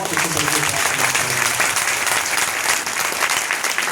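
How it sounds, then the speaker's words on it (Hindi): Audience at a Hindi-language business motivational seminar claps for themselves, a loud, dense, continuous burst of applause filling the whole stretch at steady volume. "मारो ताली अपने आप के लिए"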